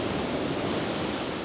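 Sea waves breaking on the shore below a seaside sanatorium near Yalta, Crimea: a steady, moderately soft broadband wash of surf with no distinct individual crashes.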